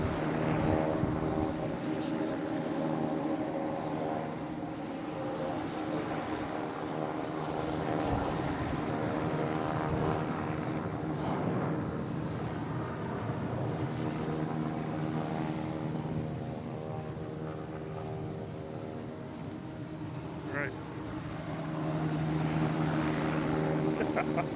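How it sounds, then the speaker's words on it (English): A JetBlue Airbus A320 jet, flight 517 to JFK, taking off at Boston Logan, its engines a steady, moderately distant roar with a tonal hum that holds throughout and swells slightly near the end. "Next taking off is a JetBlue heading to JFK in A320, flight 517"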